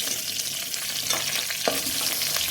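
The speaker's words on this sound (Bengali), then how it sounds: "কাঁকড়াটা আমার ভাজা হয়ে গেছে, এখন আমি তুলে নেবো।" Freshwater paddy-field crabs fry in hot oil in a pan, giving a steady, close, crackling sizzle with light stirring and no voices.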